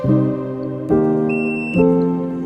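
An electronic microwave detector meter sounds a steady, harmonically rich tone that jumps in pitch twice, each step marked by a sharp click.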